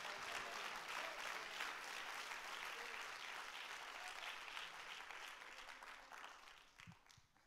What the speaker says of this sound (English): could you clap your hands to Jesus